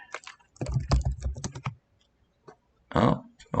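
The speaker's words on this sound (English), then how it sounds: "Let me type in a greeting there." Quick bursts of keystrokes on a computer keyboard as a chat greeting is typed, a dense run of clicks, then a pause and a short final flurry, close and fairly loud.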